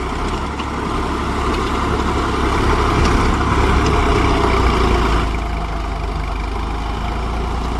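A tractor engine drones loudly and steadily while pulling a five-tine plough through a field, a heavy low rumble that eases slightly near the end, with no voices.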